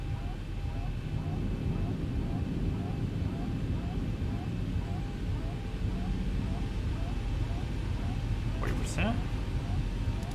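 Boeing 737 jet engines spool up steadily in a flight simulator as a constant loud roar with a rising whine, while a voice speaks over it.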